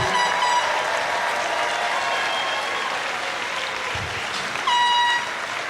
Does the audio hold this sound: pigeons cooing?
no